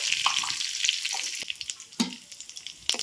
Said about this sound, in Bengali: ফোড়নে দিয়ে দিচ্ছি 1 চামচ গোটা জিরে।